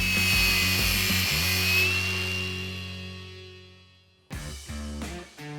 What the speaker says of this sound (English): I like to cut my hydraulic hose with a hand grinder and a 4-inch abrasive blade.